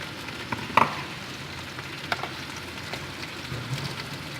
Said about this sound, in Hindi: ये भिंडी का मसाला हम इसको अच्छी तरह भूनेंगे